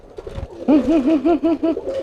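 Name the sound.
cooing pigeon bought from the market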